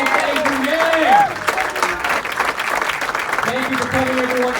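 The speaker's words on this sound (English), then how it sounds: "Applause for the next President of the United States" Crowd applause and cheering at a presidential candidate's town hall at an Iowa university, steady clapping with voices and a tonal call rising through the noise, continuing throughout.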